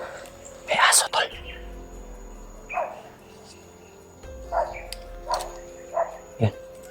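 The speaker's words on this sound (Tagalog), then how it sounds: "may ingay ng aso" A dog barks a few times nearby during a nighttime trek, short sharp yelps spaced out over low background noise, with faint insect chirping and quiet whispering voices.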